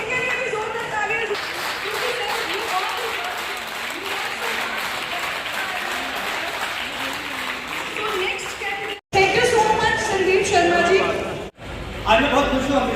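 An audience claps loudly at a Hyundai showroom event in Amritsar, with a long sustained ovation that cuts off briefly twice and then resumes at full strength, with a voice speaking over parts of it.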